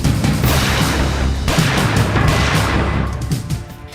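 Gunfire from criminals riding a motorbike on a road in broad daylight, a loud dense burst of rapid cracking shots and booms that fills the moment before tailing off near the end.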